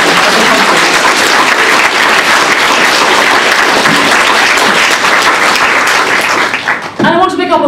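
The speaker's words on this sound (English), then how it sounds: "could we have a round of applause for the amazing speakers that we have had?" A conference audience gives a long, loud round of applause for the speakers, dense and sustained for about seven seconds before cutting off as a voice begins talking.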